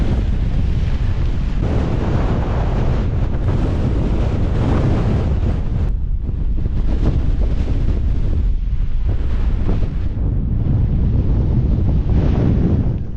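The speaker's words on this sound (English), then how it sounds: "where that wind hits, it bloody hits." Strong wind buffets a deep-snow winter summit on Cul Mor in Scotland, a loud, continuous roar that rumbles into the microphone and surges in gusts with no let-up, with no voices heard.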